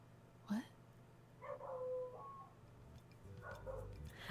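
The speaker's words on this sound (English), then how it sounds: "Was that dog barking sound from the game or from... No, that was me. Oh, I was like... I think neighbor's dog." A neighbour's dog barks off in the distance: one sharp yelp followed by a few fainter, muffled barks and whines against a steady low hum.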